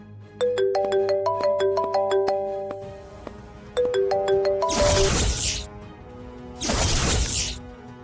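A phone ringtone plays a bright repeating melodic chime pattern in bursts, broken by two loud crashing whoosh effects.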